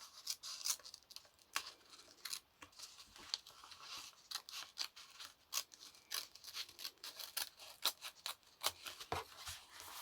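Scissors cut through a folded greeting card being made into a small journal, producing a quiet run of crisp snips and paper crunches at close range.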